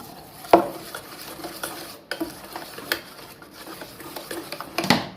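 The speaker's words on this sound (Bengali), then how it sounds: "আরেকবার যখন বের করবেন আরেকবার বিট করবেন" Mirchi bhaji batter beaten in a bowl, giving sparse clinks and scrapes of a utensil against the bowl with a few sharper knocks, fairly quiet and with no talking.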